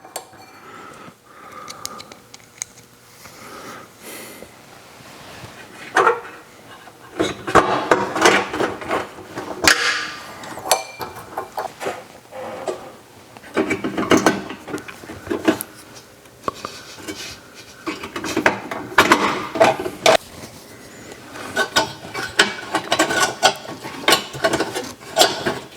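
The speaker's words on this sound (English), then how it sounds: "Start getting some screws started back in there." A ratchet clicks as screws are driven back into a Suburban RV furnace, with irregular bursts of ratcheting and metallic rattling, close up, alongside handling noises and pauses, no speech.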